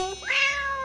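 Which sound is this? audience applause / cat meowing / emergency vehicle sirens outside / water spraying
cat meowing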